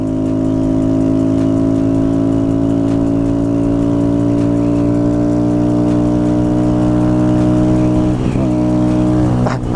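Motorcycles race flat out at top speed drags, their engines holding one loud, close, steady high-revving drone that climbs slightly in pitch, with a brief squeal near the end.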